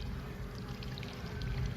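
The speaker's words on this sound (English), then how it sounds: "The crack the fairy squeezed through began spouting water from the other side." Water spouts and pours through a crack in a brick wall in a horror story scene, a quiet, steady gushing trickle heard alone for a brief moment.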